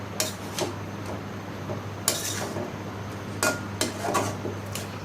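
A lid set on a cooking pot while shrimp cooks with pumpkin greens: a few light metallic clinks and taps, spaced out, over a steady stove hum.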